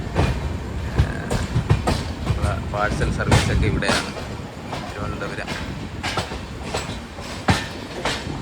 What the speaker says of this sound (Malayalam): കേൾക്കാമോ എന്ന് അറിഞ്ഞൂടാ, നമ്മളെ സൗണ്ട് ഉണ്ട് ട്രെയിനിൻ്റെ